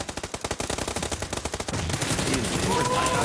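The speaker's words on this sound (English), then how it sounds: "we're shooting each other now" Rapid bursts of automatic gunfire rattle in quick succession during a USA versus Brazil battle royale esports final, loud and close for over a second before giving way to a steady wash of game noise.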